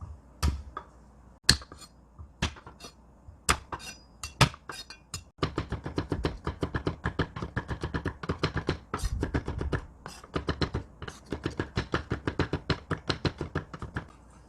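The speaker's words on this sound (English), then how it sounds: "I have a 5 garlic cloves to mince." A knife minces five garlic cloves on a board, starting with a few spaced sharp chops, then breaking into quick, steady rhythmic chopping, close and clear with no voices.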